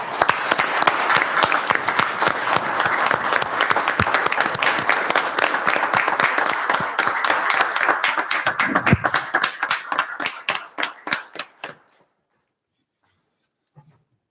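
A round of applause at a town council meeting fills the room with dense, steady clapping from many people for about twelve seconds, thinning into a few last claps before it stops abruptly.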